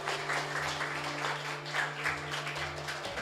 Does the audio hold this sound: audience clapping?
yes